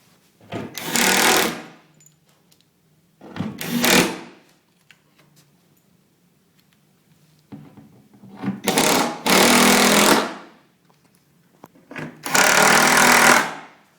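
A power driver sends screws into a base cabinet during assembly, heard as four loud, close whirring bursts of a second or two each, separated by quiet pauses.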